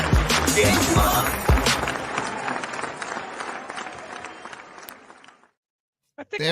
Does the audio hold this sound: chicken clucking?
no